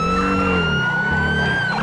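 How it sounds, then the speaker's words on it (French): A police car siren from a Los Angeles County Sheriff's pursuit wails steadily and loudly throughout, close by, with a continuous rising tone over road and engine noise. "J'entends de la sirène."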